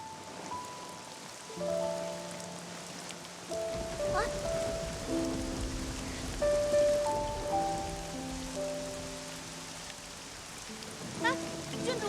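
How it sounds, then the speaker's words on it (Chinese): Steady mountain rain patters on surfaces outdoors, a continuous soft wash that runs the whole time beneath sustained musical tones, with faint voices here and there. "咱们赶紧回去吧，都下雨了。"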